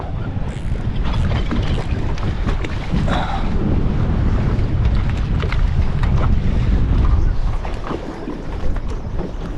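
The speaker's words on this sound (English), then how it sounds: "This wind's starting to really come up" Strong wind buffets a fishing boat out on the reef and flats of Moreton Bay, roaring steadily across the microphone alongside water and waves slapping the hull, loud and continuous throughout.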